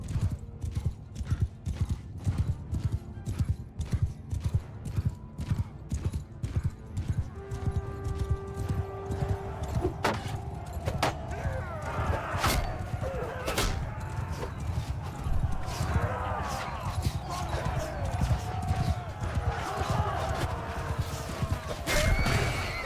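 Cavalry charges in the Bannerlord game with rapid, continuous clip-clop of many hooves, joined partway through by several shrill horse neighs and whinnies rising over the galloping thunder.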